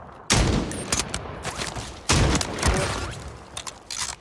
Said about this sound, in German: Stehe unter direktem Beschuss!